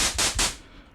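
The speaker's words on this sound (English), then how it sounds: "I'll set this to white noise" Three bursts of harsh, full-range synthesizer white noise hiss, each cut off sharply, then a quieter fading noise tail; loud and with no voices.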